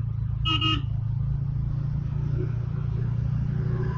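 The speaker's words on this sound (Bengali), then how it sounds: "প্রচুর জ্যাম লেগে গেছে" A road traffic jam with a low idling and engine rumble throughout. One short car horn toots once near the start.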